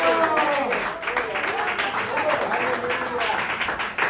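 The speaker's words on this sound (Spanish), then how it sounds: "¿Por qué no dan el aplauso?" Congregation applause in a church, steady clapping from many people running throughout while voices speak and call out over it.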